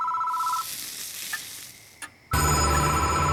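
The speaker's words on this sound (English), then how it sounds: "The phone is ringing." A phone booth telephone rings in the horror game Death Mark, a short bright ring burst at the start with a sizzling hiss under it, then a louder ringing tone returns near the end.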